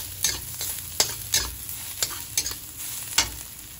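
Garlic sautés in a little cooking oil, a steady sizzle broken by repeated scraping stirs of a utensil against the pan, close and clear with no voices.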